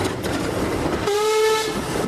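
A steam-era train rolls along a railway with a steady rumble and clatter, then a clear horn or whistle sounds for about half a second partway through, close and loud with no talk.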